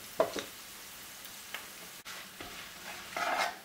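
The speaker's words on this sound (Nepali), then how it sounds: "ग्रिन चिल्ली भित्र पस्ने गरेर यसरी भुट्नुपर्छ मिडियम हिटमा" Green chillies fry over medium heat with turmeric, chilli powder and salt. The pan sizzles quietly while a utensil scrapes and stirs in a few short bursts, with a busier stirring spell near the end.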